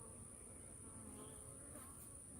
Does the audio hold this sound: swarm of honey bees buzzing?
yes